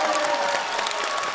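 Audience applause at a Deyunshe crosstalk comedy show, a short burst of many hands clapping, loud and dense throughout with faint voices mixed in.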